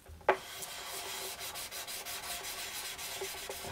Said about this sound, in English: I'll just sand it till the line disappears